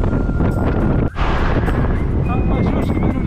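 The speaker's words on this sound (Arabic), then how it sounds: "الخوت كاينه عاصفة رملية" Strong sandstorm wind roars steadily across a roadside microphone, a loud, continuous gusty buffeting with a brief drop in the middle.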